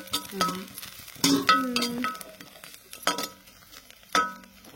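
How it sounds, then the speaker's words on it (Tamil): Neem flowers frying in hot oil, with an intermittent sizzle and several sharp metallic clinks and scrapes of a utensil against the pan, close and unaccompanied by talk. "பாப்பா ஃபர்ஸ்ட் நான் வேப்பம்பூ பொரிச்சு எடுத்துக்கிறேன்."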